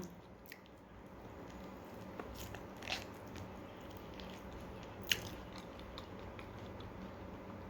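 Someone eats sweet, crunchy fruit up close, giving quiet chewing and squishing with a few sharp crunchy bites scattered over a low background hiss. No voices.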